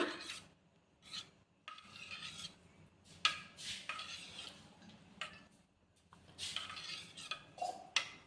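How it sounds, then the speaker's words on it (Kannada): Curd or buttermilk being stirred by hand into cooled jowar ambli, a North Karnataka sorghum porridge, with close, intermittent scraping and squelching strokes of a utensil against the vessel, quiet and with no talk. "ಮಜ್ಜಿಗೆ ಈ ರೀತಿ ಕಲಸ್ಕೋಣ"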